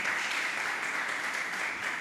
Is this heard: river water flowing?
no